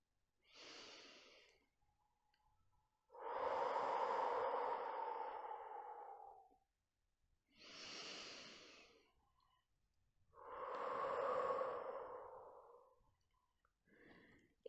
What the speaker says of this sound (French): faites à nouveau 3 grandes respirations profondes